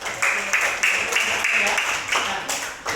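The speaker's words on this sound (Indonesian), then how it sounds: "Tepuk tangan untuk kita semua." Classroom applause from a group of fourth-grade primary school pupils, a steady bright patter of many hands clapping for about three seconds, fairly close and with no speech over it.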